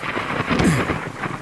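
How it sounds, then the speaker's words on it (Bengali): Heavy mountain rain pours steadily, with a deep rumble of thunder rolling through, in a brief stormy stretch of a Bengali audio story. "বিদ্যুতের ঝলকানি, মেঘের গর্জন"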